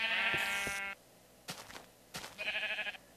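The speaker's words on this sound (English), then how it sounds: "I'm really curious to know where those sheep sounds are coming from." Sheep in the video game Minecraft bleat twice, clear and fairly close, with a quiet pause between the calls and no talking.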